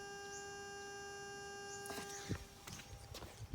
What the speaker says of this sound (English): There's also a curious hum when I turn on the ignition, which is on at the moment.